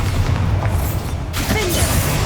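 A deep, heavy boom from a Bombarda spell explosion in the Hogwarts Legacy video game rumbles close and loud, with a lingering low-end roll and a second burst of crackle partway through.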